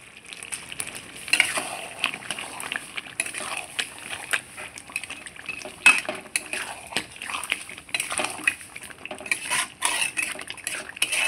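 Spicy chicken curry stirred in a frying pan, with a utensil clattering and scraping against the metal in irregular bursts over a steady sizzle of frying.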